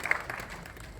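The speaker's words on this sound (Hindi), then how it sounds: "मैं चाहूँगी जोरदार तालियों के साथ उन ऋषि श्रद्धेय दादू के लिए, रविंद्र जैन जी के लिए तालियां बजें।" An audience at an award ceremony honouring Ravindra Jain breaks into applause, a brief burst of many hands clapping at moderate loudness, heard only for a moment.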